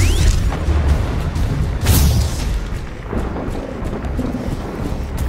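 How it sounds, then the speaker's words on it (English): Iron Storm weather in the video game The Riftbreaker, heard as continuous loud rumbling thunder with a sharp crack near two seconds, rolling on without pause and no voices over it. "der Iron Storm dauert hier ganz schön lange."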